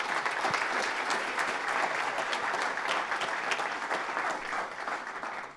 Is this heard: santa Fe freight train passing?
no